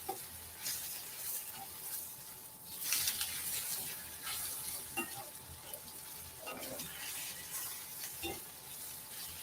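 Onions sizzle softly while caramelizing in a pan, a faint, steady frying hiss with occasional stirring scrapes, quiet and close throughout.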